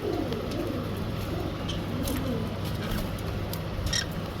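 Tame pet pigeon-type birds coo softly and repeatedly while being hand-fed, a steady murmur of low calls over a busy background of other birds chirping nearby.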